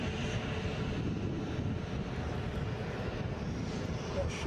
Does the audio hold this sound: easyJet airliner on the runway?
yes